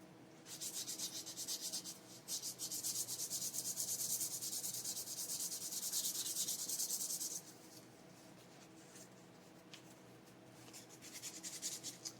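Steady abrasive rubbing of sandpaper on a Homelite Super XL chainsaw piston and cylinder, hissing close up for several seconds, then pausing and resuming briefly near the end, with no talking.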